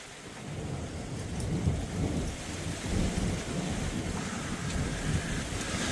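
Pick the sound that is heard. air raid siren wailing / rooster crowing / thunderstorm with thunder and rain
thunderstorm with thunder and rain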